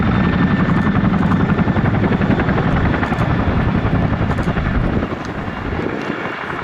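An RAF Chinook twin-rotor helicopter flies a display at the Cosford airshow, its loud rhythmic rotor thump and turbine roar steady and close, easing slightly toward the end.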